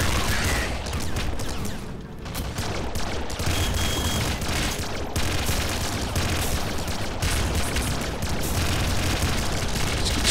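Bombs exploding in the video game Nuclear Throne: loud, dense, rapid bursts of booms and blasts in a continuous barrage for about ten seconds, with brief near-gaps, heard without talk.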